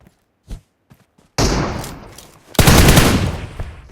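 Loud bursts of gunfire in the BGMI battle royale game, a few scattered faint shots followed by two heavy sustained volleys close up, with no talk over them.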